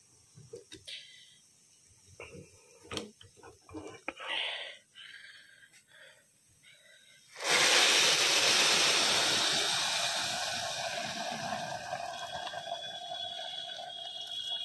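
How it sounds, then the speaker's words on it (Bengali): Water pours steadily into a pressure cooker of rice for pulao, a loud continuous rush that starts abruptly after quieter kitchen clatter and softens slightly as it continues. "পানি দিয়ে দিচ্ছি"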